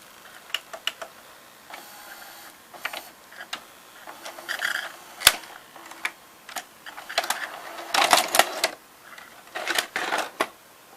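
A Zenith VRS-60 VCR half-loads a tape, giving scattered mechanical clicks, whirs and clunks in irregular bursts, with one sharp snap midway and a busier cluster of motor and gear noise near the end.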